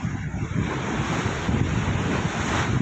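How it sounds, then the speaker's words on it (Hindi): Open sea on the Arabian Sea heard from a research ship: a steady, loud rush of waves and surf with heavy wind buffeting the microphone, continuous throughout with no voices. "ये है आपका खुला समुद्र"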